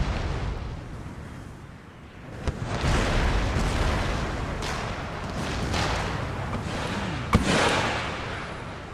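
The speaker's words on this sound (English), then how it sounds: "They're firing mortars at us." Mortar fire in the game Empire: Total War, a rumbling battlefield barrage of dull booms and explosions over a continuous roar of distant gunfire, with one sharper blast standing out near the end.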